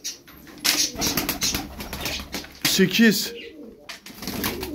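Tumbler show pigeons taking off and flying, bursts of wing flapping close by with soft cooing, under a voice counting aloud.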